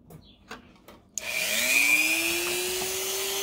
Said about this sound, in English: my little grinder